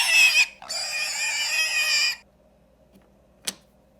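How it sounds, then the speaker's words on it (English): A farm pig oinks and grunts in two close, loud bursts, a short squeal followed by a longer run of harsh calls, then quiet with a faint click near the end. "This is a pig. A pig says,"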